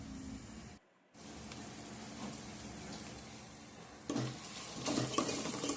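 Chopped vegetables fry in a pan with ginger paste, a faint, steady sizzle broken by a short gap, then livelier stirring clatter toward the end.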